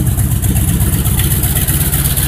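A 1987 Chevy Caprice engine idles with an exhaust leak, a loud, close, steady low rumble with a fine, even pulsing throughout.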